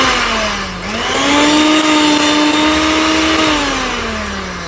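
A mixer grinder running on a bench during a home repair for a noise problem, its motor a steady loud whine that dips, climbs in pitch, holds, then winds down, with no talking.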